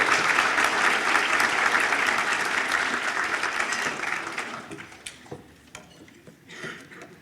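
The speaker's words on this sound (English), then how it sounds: "a big round of applause and thank you to Derek" At a women-in-business breakfast, a roomful of people applauds loudly for several seconds, then the clapping fades to a few scattered claps and faint clinks of dishes.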